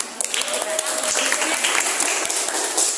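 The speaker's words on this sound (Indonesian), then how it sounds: "Wow, tepuk tangan" A class of university students applauds with dense, sustained clapping during first-day introductions, voices mingling underneath throughout the few seconds.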